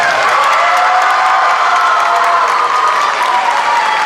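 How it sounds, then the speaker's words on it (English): A crowd applauds an elementary school drumline at a high school boosters' sendoff event, a steady loud wash of clapping with faint cheers throughout. "Let's give them a big round of applause."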